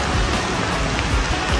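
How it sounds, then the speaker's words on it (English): Heavy rain pours down in a Jamaican rainforest, a steady, dense hiss of drops striking foliage and surfaces, close and continuous throughout with no voices. "that was kinda wild when the rain started"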